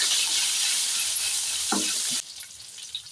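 Green chilli and ginger fry in hot oil with a loud, steady hiss that drops off sharply partway through, leaving a quieter low sizzle; no talking.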